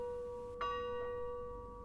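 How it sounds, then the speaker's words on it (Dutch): A small chapel bell cast in 1692 by Claude Fremy, hanging in the Reformed chapel at Hulshorst, rings with a steady sustained tone and is struck again twice, each strike blooming with bright overtones over a faint background. "In de hervormde kapel in Hulshorst hangt een klokje met de slagtoon Best 2, gegoten door Claude Fremy in 1692."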